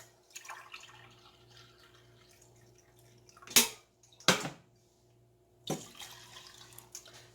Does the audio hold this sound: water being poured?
yes